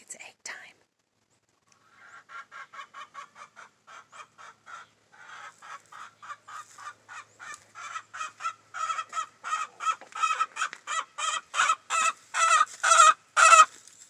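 Chickens squawk in a rapid, pulsing series of cackles that start faint and grow steadily louder and more insistent, with the clucks coming closer together as the outburst builds.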